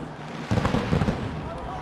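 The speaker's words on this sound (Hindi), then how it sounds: "आतिशबाजी इस समय आकाश में" Fireworks burst in the sky over a hockey match, a dense run of booms and crackles heard through crowd noise and a commentator's voice.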